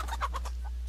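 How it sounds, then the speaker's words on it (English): Chickens clucking and squawking as they are slaughtered in the pixel-art pirate game Pixel Piracy, a few short, loud game-sound bursts over a steady low hum. "I'm just slaughtering chickens left, right, and center here."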